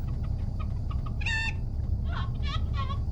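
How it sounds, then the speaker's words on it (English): A rooster on board a spacecraft clucks in a few short bursts, one sharper call and then a couple more, close and clear over a steady low rumble. "Hey, here's the rooster I smuggled on board."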